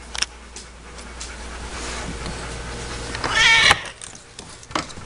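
Kitten lets out one drawn-out meow in the middle, close and prominent, surrounded by soft rustling and faint room noise.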